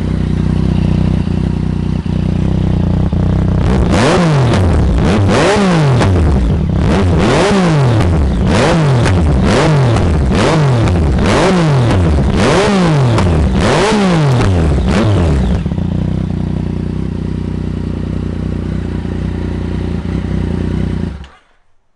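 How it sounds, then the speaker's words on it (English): A Yamaha FZ09 motorcycle with a loud exhaust revs hard at close range, a series of rhythmic rising and falling revs over a rumbling idle, then settling back to a steady idle before cutting out. "Holy crap, that's loud. I think that's the second loudest bike I have so far."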